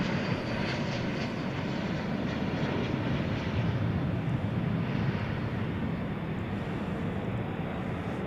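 An American airliner rolls along the runway at DFW Airport at night, a steady, broad engine roar holding loud and even throughout with no voices over it.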